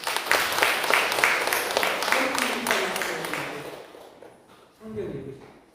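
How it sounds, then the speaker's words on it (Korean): A church congregation claps loudly and warmly, the applause tapering off over several seconds before a brief pause and a short burst of voices near the end. "박수 한번 크게 해주세요"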